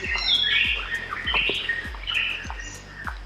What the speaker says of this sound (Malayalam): കിളികളുടെ ചൂടും വിളിയൊക്കെ എന്ത് രസമാണ്